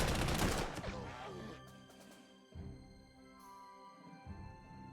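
Artillery barrage in the World War II strategy game Panzer Corps 2, a loud burst of overlapping blasts at the start fading into rumbling echoes, with a few lighter impacts later on.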